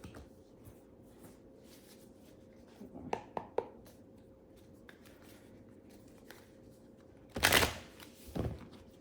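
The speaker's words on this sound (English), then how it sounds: "See, the cards shuffle just fine." A short burst of tarot card shuffling rustles close by, preceded by a few soft taps and handling noises, with quiet room hiss underneath.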